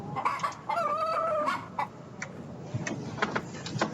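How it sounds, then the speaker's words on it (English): Chicken in the video game Yes, Your Grace clucking and squawking in a short burst of bright calls and a drawn-out crow-like cry, close and clear, with no talking. "Alright, chicken."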